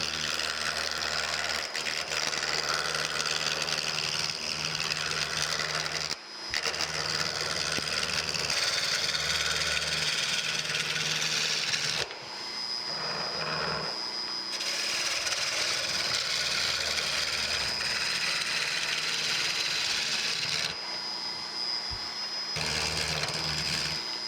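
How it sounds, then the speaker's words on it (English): A gouge cuts a wooden blank spinning on a lathe, roughing it round for a new chisel handle: a steady, loud, continuous scraping whir with a few brief breaks and shifts in tone as the cut changes, with no talking. "I'll start out with just a gouge and we'll get that piece round"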